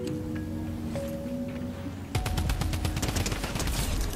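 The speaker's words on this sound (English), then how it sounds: "Midas, give me the drum gun." A drum gun in a video game opens fire about halfway through, a rapid, loud stream of automatic gunshots after a stretch of steady game ambience.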